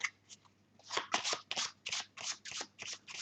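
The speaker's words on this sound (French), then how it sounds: "vous mélangez le jeu avant de distribuer les cartes" Playing cards being shuffled before a deal during a card magic trick, heard as a rapid series of crisp riffling bursts, close and fairly loud, with no talking.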